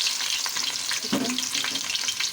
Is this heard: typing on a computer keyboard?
no